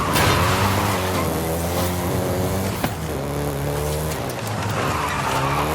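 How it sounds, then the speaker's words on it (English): Volkswagen Golf GTI racing in Forza Horizon 5 in Mexico, engine droning and revving steadily close up with tires squealing and skidding, one brief knock partway through, no talk. "including the Golf GTI you're driving right now"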